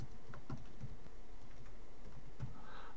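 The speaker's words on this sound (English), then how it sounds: "we'll just type in some text right here" Quiet, soft keystrokes tapped in a brief run on a computer keyboard, close and steady with no talking over them.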